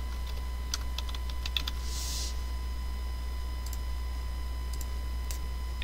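Computer keys are tapped in a few short scattered bursts of light clicks, with a steady electronic hum underneath and one brief hiss in the middle; no voices.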